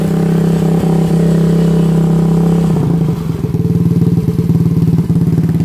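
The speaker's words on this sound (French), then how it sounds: "je vais remonter l'ancienne chicane pour qu'on voit la différence déjà, le bruit qu'elle faisait avec l'ancienne chicane" A YCF 125 pit bike engine with its old exhaust baffle idles loud and close with a steady drone, then turns to a rough, rapidly pulsing exhaust chatter for the last few seconds.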